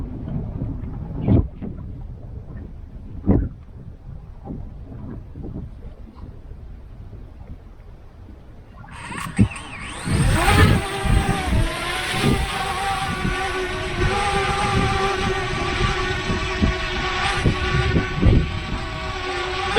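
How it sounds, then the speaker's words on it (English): A DJI Mavic Mini drone flies over a reservoir in strong wind. Scattered gusts thump at first, then a steady, harsh rushing roar with a high whine takes over and stays loud to the end. "Mavic Mini over the reservoir in strong wind."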